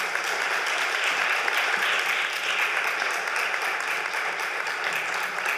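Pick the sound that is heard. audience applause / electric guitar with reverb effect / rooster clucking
audience applause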